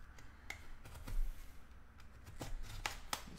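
A pack of 2019 Gold Rush Premier Players football trading cards is torn open, giving a string of sharp, crinkly wrapper rips and clicks, with a few louder tears near the end and no talking.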